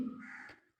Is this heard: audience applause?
no